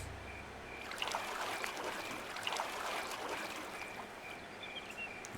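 Water skins being filled at a water source in the Xsyon sandbox game, a soft gurgling, trickling flow with light splashes, steady and fairly quiet throughout with no speech.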